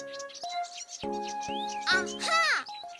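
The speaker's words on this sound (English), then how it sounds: "Aha! Bird! Hello, Father Bird! Hello, birds" Cartoon birds in an animated children's story chirp in quick, bright, sweeping tweets, mixed with a cartoon character's speaking voice.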